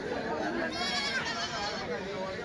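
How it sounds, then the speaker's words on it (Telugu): Goats bleat repeatedly with wavering cries over a dense, steady crowd of voices and bustle at the weekly Kadiri goat market. "ఈ వారం మేకలు మేకపోతులు రకంగా వచ్చాయి,"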